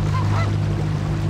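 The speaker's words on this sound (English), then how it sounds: "But we got some nice honkers." Geese honk beside a canal on a fishing outing, calls rising over a steady low engine-like hum that runs throughout.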